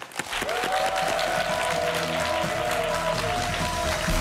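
An audience claps warmly to welcome a guest professor onto a lecture stage, steady dense applause lasting throughout, with a sustained musical tone and low hum running beneath it.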